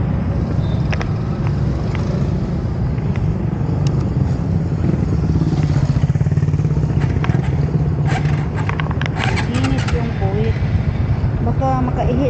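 A heavy motorcycle is hauled upright on a rain-wet road, with scraping and clattering bumps over a constant low engine or traffic rumble; someone talks throughout over the effort.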